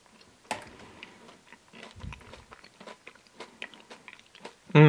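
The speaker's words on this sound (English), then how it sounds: "So let's try one of those cinnamon buns. Let's try 2 sliced ones at once." Someone biting and chewing Ben & Jerry's cinnamon buns ice cream with sliced cinnamon bun pieces, producing soft, close, irregular crunches and wet chewing, with no talk.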